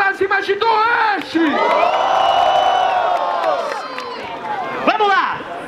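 A crowd at a student rap battle roars, cheers and whoops in a loud sustained wave, dipping briefly before surging again, with a voice shouting over the noise.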